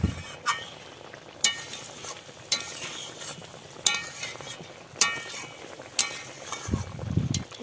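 Hilsa fish frying in oil gives a low, steady sizzle close by, broken every second or so by sharp metallic clinks and scrapes of a utensil against the pan, with no voices.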